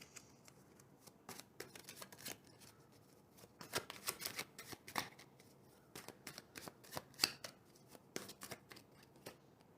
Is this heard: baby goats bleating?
no